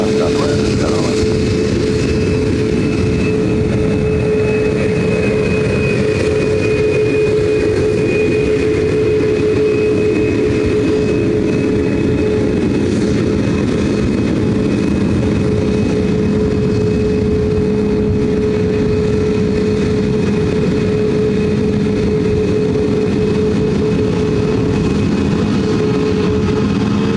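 Southwest aircraft taking off from runway 26 right at Ontario airport, California, a loud steady engine roar with a sustained droning tone lasting throughout, with radio talk over it.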